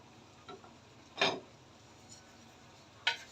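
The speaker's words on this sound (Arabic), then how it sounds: "نديها بقى تقليبه" A spoon stirs kebab and rice in a cooking pot, giving a few sharp metallic clinks and knocks against the side. They are spaced apart over soft background noise.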